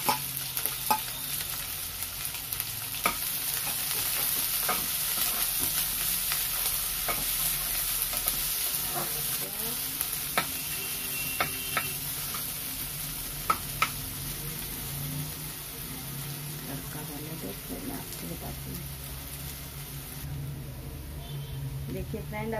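Steady frying sizzle as spices, chopped onion, garlic and ginger temper in hot oil, with occasional stirring clicks and scrapes, continuing throughout at moderate level.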